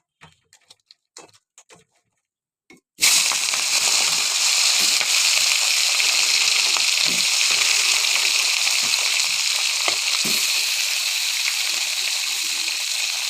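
A few faint clicks in near silence, then a sudden loud, steady hiss and crackle as turmeric-and-salt-rubbed fish pieces hit hot oil in a kadai, sizzling continuously and close up with scattered pops.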